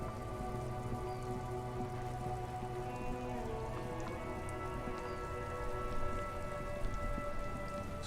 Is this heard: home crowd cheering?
no